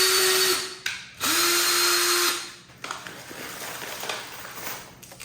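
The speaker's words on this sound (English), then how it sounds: "I'm just going to make a little bit of a pilot hole" A power drill bores a small pilot hole for mounting porch moss letters, whirring in two loud high-pitched bursts with a short pause between them. Quieter handling noises follow.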